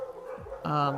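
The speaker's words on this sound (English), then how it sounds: "You can hear my dogs in the background." Dogs bark and yip in the background of a room, with a short high whimpering yip rising into a sharp bark, heard moderately loud and close.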